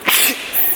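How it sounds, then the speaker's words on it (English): Sneezing set off by natural ground spices inside a Kenyan canning factory: a single sharp, loud sneeze burst, close to the listener, followed by a brief lighter breathy noise. "we are sneezing because the spices are real"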